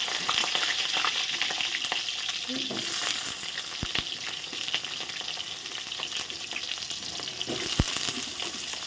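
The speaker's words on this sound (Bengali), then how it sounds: "আমি আজকে ফুলকপি আর আলু একসঙ্গে ভাজবো প্রথমে আমি আলুটা দিয়ে দিচ্ছি" Potatoes and cauliflower fry together in a pan, a loud, steady sizzle close by with intermittent scraping and clinks as the pieces are stirred.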